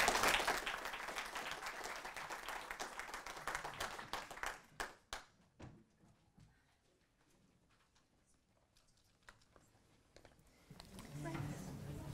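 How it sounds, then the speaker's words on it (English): Audience applause at a talk on young people, the arts and mental health, with moderate clapping that tapers off into a few scattered claps and near silence, and a voice returning at the end. "Give her a round of applause"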